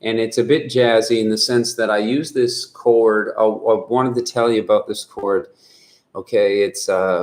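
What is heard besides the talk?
No everyday noise stands out behind the speech.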